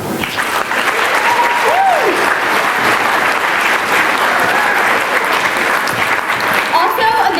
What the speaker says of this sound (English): help me welcome two other interns who helped make all this possible. Give it up for Drew Hoskins and Sydney Latimer.